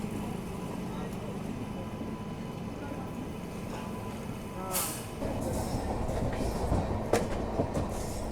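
A train in a general coach picks up speed after leaving a station on the Maksi line near Dewas, with steady rolling rumble and clatter filling the carriage, brief louder bursts, and a voice speaking over it.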